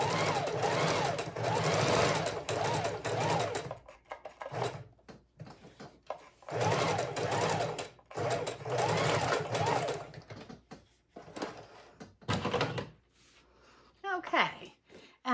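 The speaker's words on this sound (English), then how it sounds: "I'm doing a straight stitch, single stitch all the way across" A sewing machine runs a straight single stitch at a wide stitch length across scrapbook paper, whirring in loud bursts separated by pauses, with light clicks and handling noises between runs.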